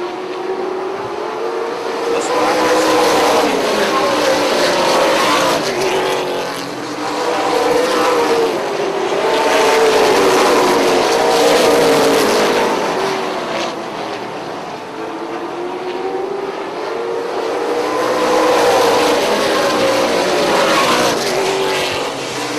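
Late model race cars at full speed on a short oval track, engines roaring loud and steady with rising and falling surges as the pack passes, no voices over the sustained mechanical drone.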